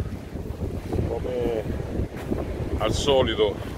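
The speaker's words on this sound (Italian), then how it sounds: "qui soffia il vento, speriamo che si sente" Outdoor wind buffets a smartphone microphone with no windscreen, producing a constant low rumbling roar throughout, while a person speaks briefly over it.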